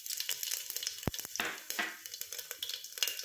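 Cumin seeds crackle and sizzle in hot oil with dense, close frying hiss, one sharp pop near the start, and steady spattering throughout.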